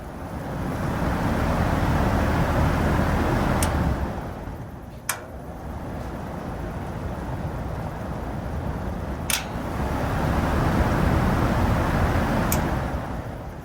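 Vintage McGraw Big 20 window fan running, a steady broad whooshing motor and blade drone that swells and eases in long waves, with a few faint clicks along the way.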